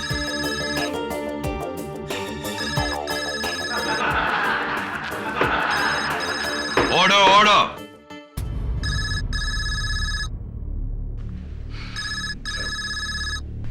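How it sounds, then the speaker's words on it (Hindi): A mobile phone ringtone rings out in a courtroom, sounding in repeated bursts under people talking and shouting for order. It cuts off briefly, then resumes in a quieter, sparser pattern. "किस बदतमीज का ये फोन है? बंद करो उसको।"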